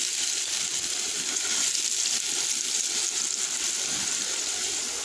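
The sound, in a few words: potatoes frying in pan with turmeric and salt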